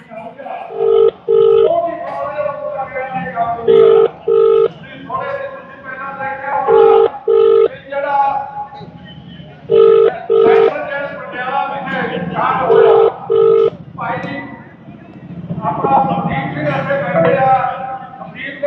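A phone ring tone repeats in paired electronic bursts, cycling several times with no answer while people talk nearby.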